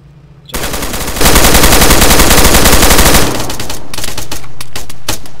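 Sustained automatic gunfire from the Arma 3 Exile mod, loud and rapid, bursts in after a short lead-in, holds a dense rattling stream for several seconds, then breaks into scattered shots with no talk.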